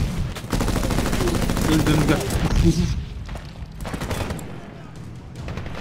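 Dense, continuous gunfire and booming blasts during a Medal of Honor (2010) battle, loud and close, with someone talking over the shooting and short bursts continuing as the noise thins out.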